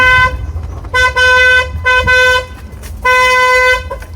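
A car horn honks loudly four times in uneven bursts, some short and some held for nearly a second, with a low engine rumble underneath.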